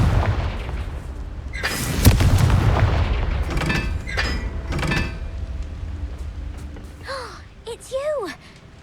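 Confringo fire-spell blasts in Hogwarts Legacy, loud booming bursts rolling through a noisy game soundscape, followed by rising and falling magical whooshes near the end.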